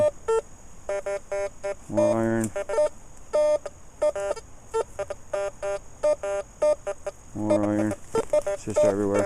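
A Makro CF77 metal detector with a 9 inch coil gives repeated short electronic beeps while sweeping over iron targets, with a few lower, longer warbling tones among them. Quiet talk runs underneath.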